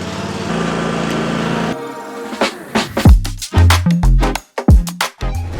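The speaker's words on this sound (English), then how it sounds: "Kyle's just shooting up there to mow one with the Ferris" Ferris lawn mower engine hums steadily at first, then cuts out, and a run of loud, irregular thumps and knocks follows close by on a mossy lawn.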